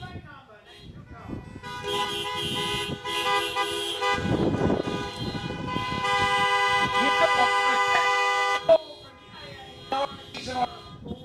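Many car horns honk together at a drive-in menorah lighting, a dense overlapping chorus of sustained toots and short beeps running throughout, fairly loud, with crowd voices mixed in beneath.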